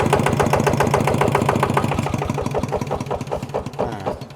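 A small single-cylinder Kubota RT engine on a walk-behind tractor runs steadily nearby, loud and even, with a rapid regular chugging pulse throughout.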